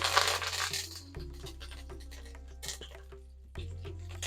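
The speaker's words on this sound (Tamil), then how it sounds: "கடுகு நல்லா பொரியட்டும் கடுகு பொரியுது" Mustard seeds crackle and splutter in hot oil in a pan while tempering for a Kerala-style black chickpea curry, with an initial burst of sizzling, then scattered sharp pops over a steady low hum.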